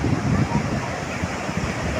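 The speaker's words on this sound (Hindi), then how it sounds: "देखिए फैमिली समुद्र की लहरें, ये समुद्र की लहरें।" Ocean waves rolling in at Puri beach, a broad continuous wash of surf mixed with wind rumble on the microphone, fairly loud and close.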